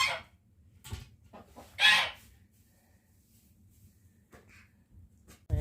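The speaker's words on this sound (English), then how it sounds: "There's our other hen." Pasture-raised hens cluck outdoors on a farm, a scattering of short clucks and one louder squawking call, near and intermittent over a low breeze.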